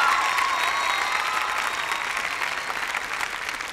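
A studio audience at a televised singing competition applauds a contestant, a loud, continuous wash of clapping with faint cheering, fading gently toward the end.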